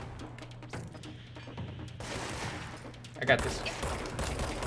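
Video game machine gun fire crackling in rapid bursts, growing denser and louder in the second half with a sharp impact near the end, while a player talks briefly over it.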